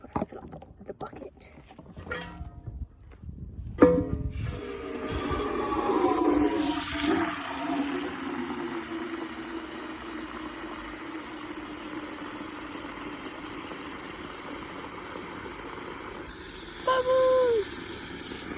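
Water gushes from a tap or hose into a bucket for washing a car, a steady rushing pour that starts after a few seconds and runs on close and continuous, with a short louder burst near the end.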